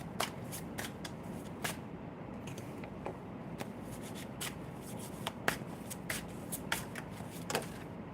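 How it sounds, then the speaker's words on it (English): A tarot card deck is shuffled and cut, giving quiet, crisp clicks and taps in an irregular run throughout, with no one speaking. "I just cut the deck."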